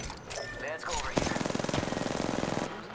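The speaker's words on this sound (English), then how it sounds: "R301 here. If we shoot, I'm gonna make some shots in the air" An R-301 rifle in Apex Legends fires a rapid automatic burst of roughly twenty close, loud shots into the air, preceded by a player talking briefly.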